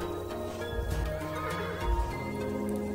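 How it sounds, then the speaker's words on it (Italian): A horse in the Kingdom Classic video game neighs and pants, with two louder snorting bursts and soft clip-clop hoofbeats underneath, close and steady with no voices. "Il cavallo che si stanca, che si sfiatta"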